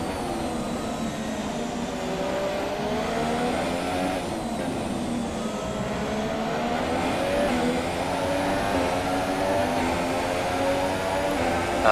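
Formula 1 cars from F1 2017 scream at high revs under race conditions, a continuous loud engine whine with rising and falling pitch through corners and gear changes.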